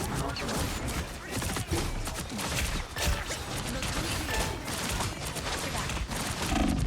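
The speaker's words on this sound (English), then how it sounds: "Who's shooting me?" Dense, continuous gunfire aimed at the player in a ranked shooter match, a busy crackle of shots and impacts that fills the whole stretch without letting up.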